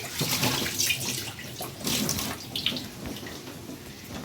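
Running water splashes steadily into a metal vessel as it is rinsed before making rasam, with sloshing and brief bursts where the flow hits the metal.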